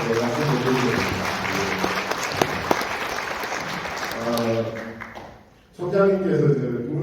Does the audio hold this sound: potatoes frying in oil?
no